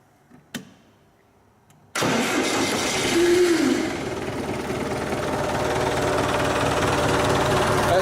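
A John Deere tractor engine with its fuel shutoff unplugged cranks and catches, then settles into a steady, slightly rough idle close by. A faint click comes first.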